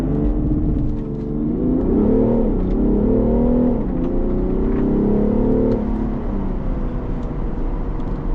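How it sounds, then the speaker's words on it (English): A BMW M340d xDrive Touring diesel estate launching hard, its engine note climbing through gears with rising whine and a shift dip, loud and close throughout. "Sorry man, but I think I need to launch your car."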